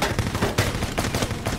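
Rapid gunfire in the Kill Switch shooter game, a rhythmic automatic burst of evenly spaced shots repeating about five times a second, loud and close with no voices.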